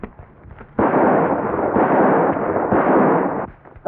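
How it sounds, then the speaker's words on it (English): Rifle gunfire in a 1940s Canadian-set cowboy western, a loud sustained burst of shots and rumbling reports lasting nearly three seconds after a quiet start, filling the scene without any speech. "You've seen him shooting at me."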